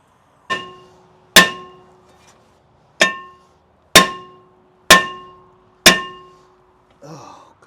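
A hammer strikes the nut or stud on a Ram 2500 axle during a U-joint replacement, giving six loud, ringing metallic clangs at uneven intervals, each decaying quickly, with a faint rustle at the end.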